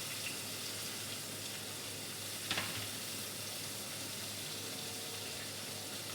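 Onions frying in oil until browning make a steady, even sizzle that stays close and moderately quiet, with one brief clink of a utensil partway through.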